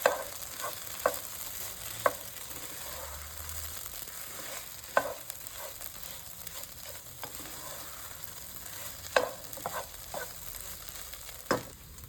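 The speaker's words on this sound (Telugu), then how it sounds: "ఇప్పుడు నేను అంతా కలిసేలాగా మంచిగా కలుపుకుంటున్నాను" Okra (bhindi/bendakaya) fry gets stirred in a pan, with a quiet sizzle underneath and scattered sharp scrapes and taps of the spoon against the metal at irregular intervals, close by, with no talking.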